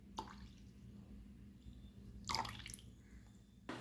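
Water and then milk poured from a tumbler into a pan while making egg kesari, heard as brief quiet splashing and trickling bursts separated by near-silence.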